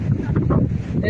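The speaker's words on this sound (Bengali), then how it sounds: "এত পরিমাণে হাওয়া হচ্ছে, হয়তো আমার কথাটাও তোমরা ভালো করে শুনতে পাচ্ছ না" Strong wind buffets the microphone in a rough, continuous rumble at the seashore at Digha, with faint surf in the background.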